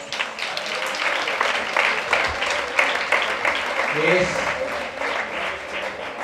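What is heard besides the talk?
audience applause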